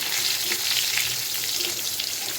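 Parwal pieces fry in oil until reddish, giving a continuous close crackling sizzle with faint stirring scrapes and no voices.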